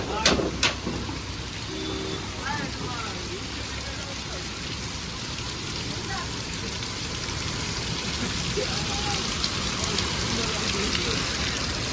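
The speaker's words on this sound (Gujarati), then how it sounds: "કેટલો બધો વરસાદ છે" Heavy rain pours down in a deserted street as a constant dense hiss, with a couple of sharp knocks at the start and faint voices beneath the downpour.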